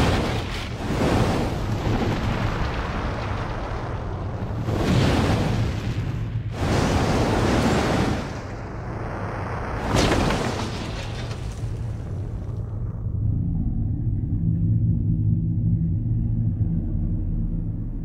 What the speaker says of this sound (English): the results of a powerful thermonuclear explosion at the Pacific Proving Grounds